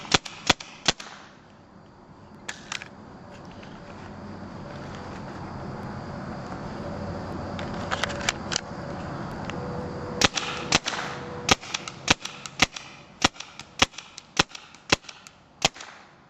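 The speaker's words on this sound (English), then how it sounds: "We're going to run 2 full clips through the marker." A TPX paintball marker firing into a pizza box, sharp single cracks at first, then a long pause before a rapid irregular series of snappy shots that grow denser toward the end, close and loud over a steady background hiss.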